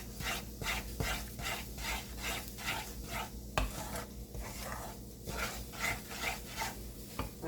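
Ghee being roasted in a pan for bajra-flour sukhadi, with steady rhythmic scraping and stirring strokes and a faint sizzle underneath, close and continuous.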